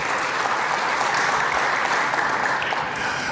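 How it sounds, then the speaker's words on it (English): A conference audience at a disability inclusion summit opening session breaks into sustained, dense applause, loud and even for over three seconds before trailing off at the end. "he deserves a huge round of applause"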